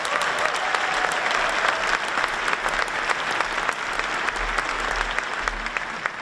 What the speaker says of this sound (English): Could we please give President Sands a round of applause?